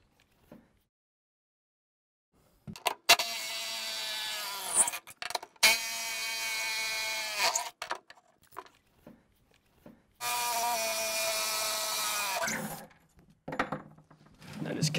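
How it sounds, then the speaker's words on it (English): A power drill removing bolts whirs in several loud bursts of a few seconds each, with clunks and handling noises between runs. "We have a drill that makes it a lot easier."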